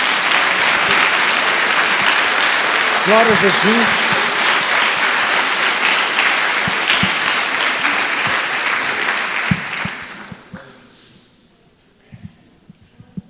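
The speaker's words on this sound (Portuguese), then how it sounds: "Dê uma salva de palmas ao Senhor." A church congregation applauds the Lord with loud, dense clapping that holds steady and then fades out over the last few seconds, leaving scattered claps. Someone speaks briefly during the applause.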